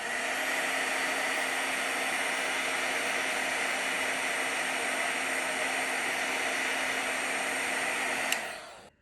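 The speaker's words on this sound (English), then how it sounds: "now I'm gonna heat it again just to get that vinyl to stick a little bit better" A heat tool blows hot air steadily onto craft vinyl for a Christmas cookie-baking project, a loud, constant broadband whoosh with a faint whine that holds for about eight seconds, then cuts off abruptly.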